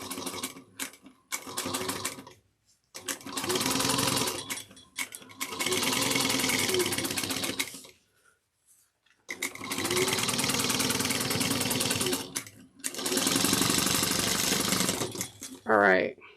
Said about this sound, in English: We're going to sew them together, right sides together, at 3/8 of an inch. Back stitch at the beginning and the end.